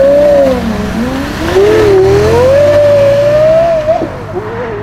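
A Porsche Carrera GT V10 engine revs up and down at a classic car show, a loud, close, wavering pitch rising and falling over several seconds.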